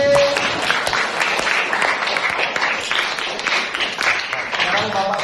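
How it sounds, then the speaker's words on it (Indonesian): Classroom of students applauding at their teacher's request, a steady stretch of brisk clapping with some voices mixed in. "Tepuk tangan sekali lagi."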